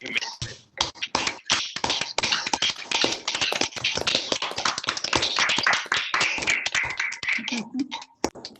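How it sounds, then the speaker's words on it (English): Audience at a discussion event for a 1981 documentary film giving the organizers and production team a round of applause, a clattering burst of claps that swells and then thins out toward the end. "Let's give a round of applause to all of the organizers, to the whole production team"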